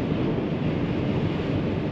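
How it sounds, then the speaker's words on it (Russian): Strong wind roaring against a truck cab, a steady, loud, broadband rush with no breaks over the whole stretch and no talk. "Ё-моё, гляньте, какой ветрило."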